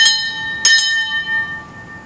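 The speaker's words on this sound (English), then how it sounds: "The bell invites me." Bells ring out with bright sustained tones, two sharp strikes in quick succession that ring on and fade over a quiet background.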